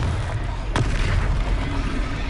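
A Confringo blasting spell explodes during a Hogwarts Legacy battle, with one sharp, loud burst early on that fades into a dense, steady roar of low rumbling combat noise.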